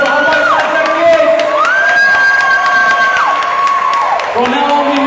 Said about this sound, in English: Let's put a big applause for all of us together